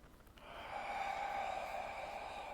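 A long, deep inhale during a yoga core workout, starting with a short sniff and then a steady, soft, airy breath that stays faint and close.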